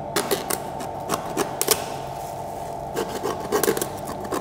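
Hand saw cutting through wild boar ribs during butchering, a continuous gritty rasping with sharper strokes and knocks, close and fairly loud with no talking.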